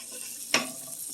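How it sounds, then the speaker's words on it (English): Onions fry in a teaspoon of oil in a pan with a steady soft sizzle. A single scraping stir cuts through about midway, and there is no talking. "caramelize the onions so they become translucent and a really nice light brown color"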